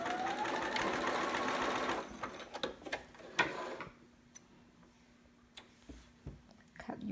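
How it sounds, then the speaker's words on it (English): A sewing machine back stitches a romper sleeve seam with a fast whirring run. It stops, then gives a few sparse close clicks and short stitch bursts, all faint. "And then back stitch when you get to the end."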